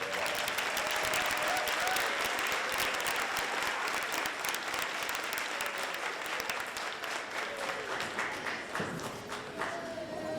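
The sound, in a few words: audience applause for students at a school concert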